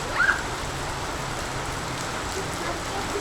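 A heavy pre-monsoon shower in Konkan hisses down as an even, dense wash of rain, loud and continuous throughout.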